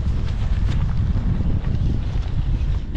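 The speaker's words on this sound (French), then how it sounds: "Avec le vent de face, c'est un plaisir." Strong headwind roars and buffets against the microphone while riding a hybrid bike on a long solo ride, a continuous low rumble with no clear voices.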